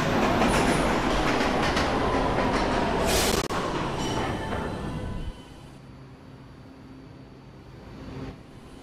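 A subway train rumbles and clatters loudly, then the noise drops sharply as it slows, leaving a quieter hum with faint squeals.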